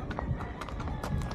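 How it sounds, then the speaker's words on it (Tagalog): A horse walks on a ranch in Palawan, its hoof clops sounding in an irregular rhythm at moderate distance over a steady outdoor background. "Napakalaking kabayo niya, guys."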